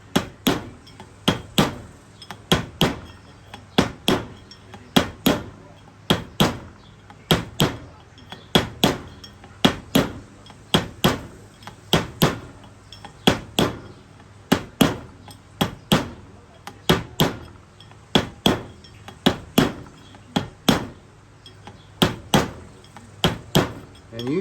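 Sharp metallic taps ring out steadily one after another, close and bright, a hammer working around a wheel seal on an LS3010 tractor with no talking.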